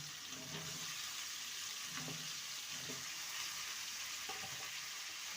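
Potato, tomato and drumsticks fry quietly in a pan, giving a faint, continuous sizzle with a few soft stirring scrapes spaced out, and no one speaking.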